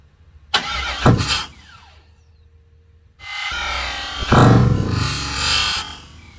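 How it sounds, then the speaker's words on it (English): A click and short burst of noise as the fuel pump relay switches on, then the fuel pump's thin, steady electric whine, followed by an LS-swapped Ford Model A engine cranking and rumbling into life nearby. "Should be able to hear the fuel pump and the relay turn on"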